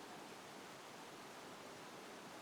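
A river flowing, a steady, even rush of water that is distant and soft, with no other sounds.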